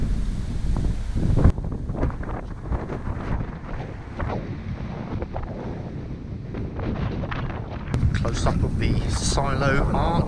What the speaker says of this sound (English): It's a bit windy, so you'll have to excuse the noise.